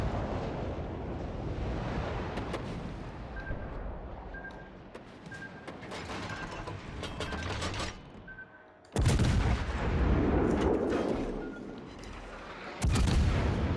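Warship main gun salvos in World of Warships Legends, heavy booming blasts landing in clusters with long rumbling tails, plus lighter secondary fire and a repeating beep between them.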